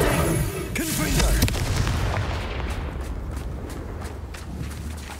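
A Confringo fire spell is cast in Hogwarts Legacy, making a booming, explosive burst at the start that settles into a steady, rumbling roar for several seconds.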